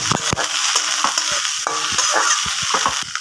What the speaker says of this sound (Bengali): এরপর আমি কুচিয়ে রাখা পেঁয়াজগুলো দিয়ে দিচ্ছি এবং শুকনো লঙ্কাগুলো দিলাম দিয়ে আমি এটাকে বেশি না এমনভাবে ভাজা ভাজা করবো